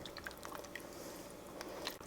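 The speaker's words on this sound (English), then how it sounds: "Now I'm going to stir the sour cream in" Sour cream being stirred into a pot of chicken paprikash, giving a soft, wet squishing and gentle dripping texture, close and continuous with faint clicks of the utensil.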